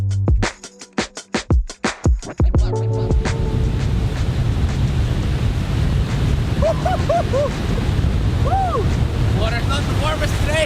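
Steady roar of surf and wind buffeting the microphone on Ninety Mile Beach in Northland, New Zealand, following a few loud thumps at the start, with faint high calls drifting over the wash.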